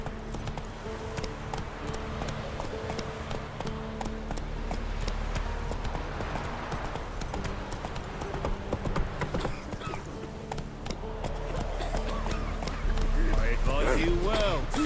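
Roach the horse gallops steadily in The Witcher 3, hooves clip-clopping in a fast continuous rhythm across the whole stretch, with a voice and other voices talking over the hoofbeats.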